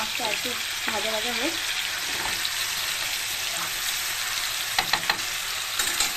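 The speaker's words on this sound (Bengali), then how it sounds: "মাছটা একটু ভাজা ভাজা হোক" Katla fish head fries in a pan with a steady, moderate sizzle, interrupted by a few clinking utensil taps; a brief voice is heard near the start.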